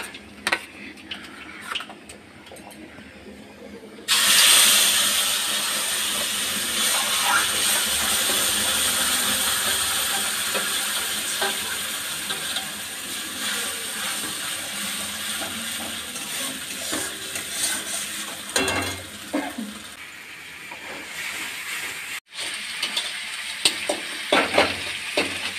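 Mashed bean paste frying in hot oil with black cumin in a home kitchen, a loud sizzle that bursts in and keeps crackling for a long stretch, broken by stirring scrapes and clatter.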